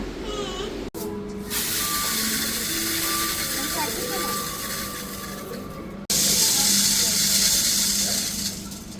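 Eggplant fries in a kadai wok with a continuous loud hissing sizzle that surges sharply about two-thirds of the way through, while voices talk over it.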